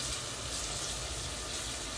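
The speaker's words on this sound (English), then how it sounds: "You can see that the onions are frying." Onions frying in a pan for a meatless Efo Riro give a soft, steady sizzling hiss, faint and continuous with no talking.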